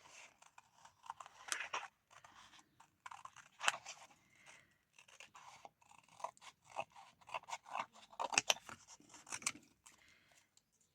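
Scissors cut through a glued paper template, a run of crisp snips and papery crunches coming in irregular bursts, close and fairly quiet with no talking.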